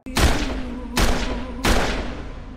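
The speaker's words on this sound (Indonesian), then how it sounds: "Vidya melepaskan tembakan yang membuatnya tewas saat itu juga" Gunshots in a shootout scene from an Indian film, three loud booming shots spaced under a second apart, each with a ringing decay and no talk.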